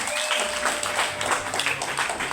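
An audience applauds to welcome the Mombasa County executive for youth, gender and sports at a public event, a steady, dense clapping that fills the whole moment without a break.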